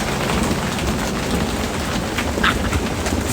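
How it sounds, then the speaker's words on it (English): Heavy thunderstorm rain with hail pounds down in a steady, dense roar, loud and close throughout, with no voices. "it's hailing at Christmas time"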